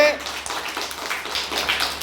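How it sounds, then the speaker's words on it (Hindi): A school audience claps for a student at a National Unity Day program, scattered hand claps sounding moderately close, mixed with crowd murmur and voices. "शाबाश, जोरदार तालियां बजाइए"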